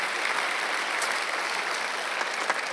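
Church congregation clapping together during a Sunday worship service, a steady dense wash of applause that fills the room evenly from start to finish with no voices rising above it.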